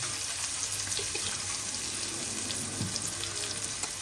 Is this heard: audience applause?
no